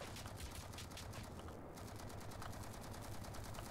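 Rapid enemy gunfire in the Space Engineers video game, a dense stream of shots running steadily throughout at a fairly low, even level.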